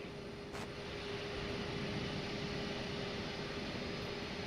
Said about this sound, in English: Caution the departing Embraer E170